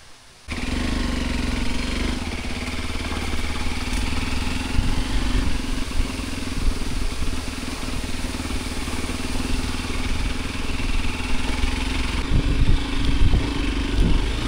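A parked touring motorcycle idles close by, its engine a steady low, even throb that holds for the whole stretch after a brief quiet start, with a bit of clatter and slight swells in loudness near the end.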